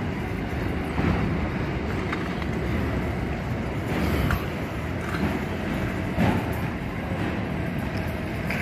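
A freight locomotive train rumbling at Liverpool station in Sydney, a loud continuous low roar with periodic clanks of passing wagons and wind noise.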